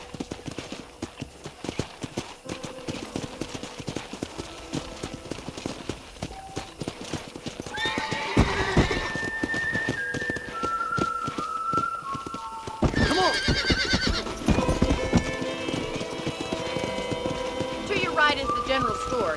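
A horse galloping across a ranch in Red Dead Redemption, steady rapid hoofbeats throughout, with whinnies and a clear neigh midway and people talking over the hooves.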